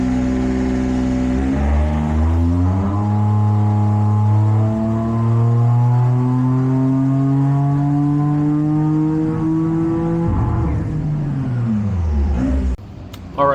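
A turbocharged Honda Beat with an E07Z engine on a dyno at 17 psi boost revs in one long, loud pull with rising pitch, then lets off and drops away abruptly at the end.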